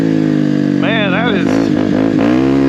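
A Kawasaki KLX300R dirt bike fitted with an EJK fuel tuner revs up sharply from idle, holding a high rising pitch before dropping back, then blipping through several shorter revs close by.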